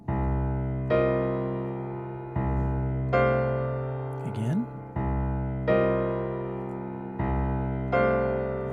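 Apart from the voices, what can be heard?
piano playing two harmonized minor chord voicings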